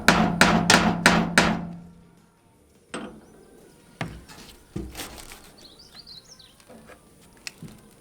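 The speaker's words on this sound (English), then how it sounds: "So what I brought to do that is a 3/4 inch wrench extender and a big hammer." Hammer blows on a 3/4 inch wrench extender driving out a shear pin: five sharp metallic strikes in quick succession, loud and close, then a pause and several scattered lighter knocks with faint outdoor background.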